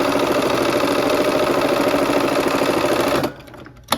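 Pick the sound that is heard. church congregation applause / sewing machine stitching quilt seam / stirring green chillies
sewing machine stitching quilt seam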